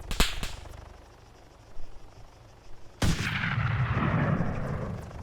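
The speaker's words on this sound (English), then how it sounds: "I'm able to take out the pilot in one shot." Sharp rifle cracks from an ARMA 3 battle, a couple of quick distant shots followed by a loud, close sniper rifle blast whose rumble rolls on for seconds.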